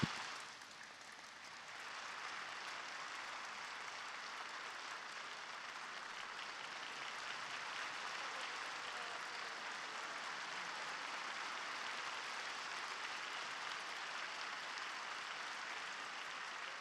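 Church congregation applauding as a flower pot is presented to the pastor at a New Year revival service, a steady sustained wash of clapping that fades briefly then holds at an even level throughout.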